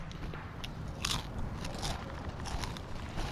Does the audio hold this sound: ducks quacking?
no